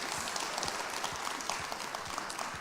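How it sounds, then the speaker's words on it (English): Audience applause at a live celebrity interview event: dense, steady clapping that fills the whole stretch at an even level, with no talking over it. "a huge round of applause Yeah. for Charan here, please."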